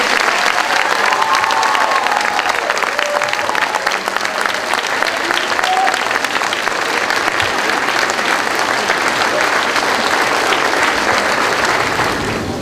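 At a spring nursing pinning ceremony, the audience breaks into loud, sustained applause for the graduates, a thick, steady roar of many hands clapping with scattered cheers woven through, lasting several seconds.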